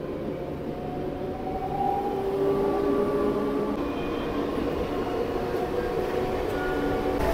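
A Howrah to Puri local train runs along the track, heard as a steady moderate rumble and rattle of wheels from on board, with a slight swell in loudness partway through and no talk.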